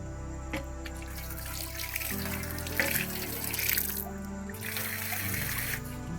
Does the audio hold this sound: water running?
yes